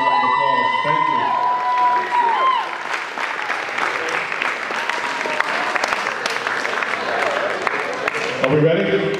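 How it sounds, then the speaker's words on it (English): Loud, sustained applause with cheering from an audience at a natural bodybuilding awards ceremony, a dense continuous wash of clapping and voices lasting several seconds, with a brief tone at the start. "Please give us a round of applause."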